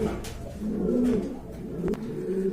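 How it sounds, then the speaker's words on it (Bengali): A pair of large king pigeons coo in low, throaty repeated calls, fairly close and steady, with no talk over them. "এক জোড়া বিগ সাইজের কিং কবুতর রয়েছে"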